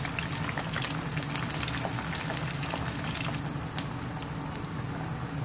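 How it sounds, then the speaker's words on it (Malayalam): Jackfruit seeds fry in hot oil with a steady, dense crackling sizzle, close and continuous with no voices. "ആദ്യം നമുക്ക് ഫുള്ളായിട്ടും ചേർത്തൊന്ന് ചെറുതായിട്ട് ഫ്രൈ ആക്കിയിട്ട് കോരി മാറ്റാം"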